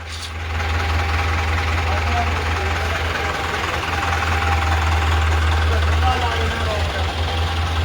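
A large tractor idles beside a big wheat harvesting machine, a steady deep diesel drone with a strong low hum and faint knocking throughout, close and constant.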